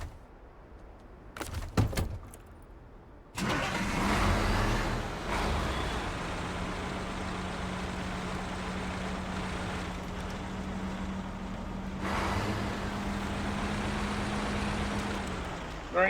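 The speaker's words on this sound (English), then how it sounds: "I gotta move some trucks around." A truck engine in the woods cranks and catches after a few seconds, then settles into a steady, close, low rumble with a constant droning hum for the rest of the clip.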